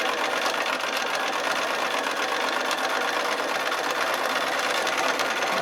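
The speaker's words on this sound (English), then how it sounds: "Get used to moving the sample in sync with the speed of your machine." Sewing machine doing free-motion quilting, a steady rapid needle chatter running without a break, close and even, with no talking.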